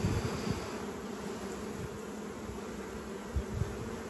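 Honeybees buzzing steadily around an open hive frame during queen rearing, a dense continuous hum close by, with a few louder individual bees passing near, no speech.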